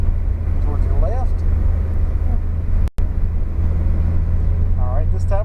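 A Porsche accelerating over a hill on a race track, its engine and road roar running loud and steady throughout, with a brief dropout near the middle and a person talking over it.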